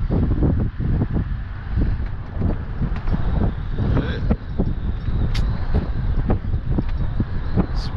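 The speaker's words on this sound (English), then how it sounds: "It's windy." Wind blows outdoors by a fishing spot, a continuous rough rumble buffeting the microphone with irregular gusts and thumps throughout.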